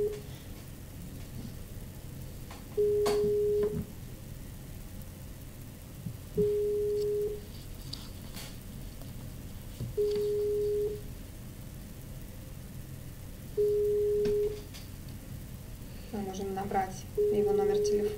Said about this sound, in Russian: Пошел звонок.